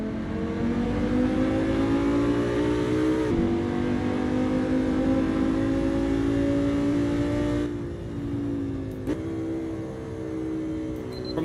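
Hypercar engine in the racing game Assetto Corsa, revving hard and climbing through the gears with rising harmonic whine and abrupt shift drops, loud and continuous throughout with no talk.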